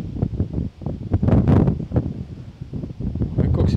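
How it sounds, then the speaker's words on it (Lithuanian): Strong autumn wind blows along the bank of the Nemunas river during spin fishing for pike. It buffets the microphone in close, uneven low rumbles and gusts that rise and fall for a few seconds. "Vai koks vėjas stiprus."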